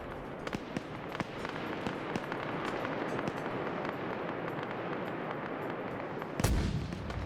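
Mortar and artillery fire in an Arma Zeus mission: a steady barrage of distant booms and sharp reports over constant battlefield rumble, with one heavy, close blast near the end.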